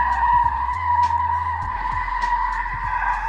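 A modified BMW drifts on a city street, its tires skidding and squealing steadily over a loud, continuous engine drone that holds close and strong throughout.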